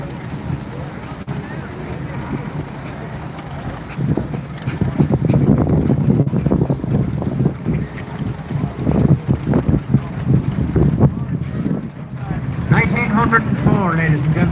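A 1904 Marshall 5 nominal horsepower steam engine rolling along in a steam rally parade, a low steady chugging rumble beneath wind noise and a commentator talking over a public address.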